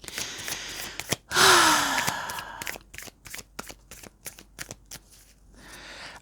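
Tarot cards are shuffled and handled up close, a quick riffle followed by a long run of crisp, rhythmic snapping taps as the cards are cut and laid down, with faint rustling at the end.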